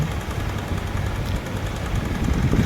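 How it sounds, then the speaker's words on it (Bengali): A motorcycle engine runs steadily up close, with a rough, rapid rattling knock from a loose timing chain throughout, growing slightly louder toward the end. "টাইমিং চেনটা লুজ হওয়ার কারণে এই ধরনের সাউন্ড হচ্ছে"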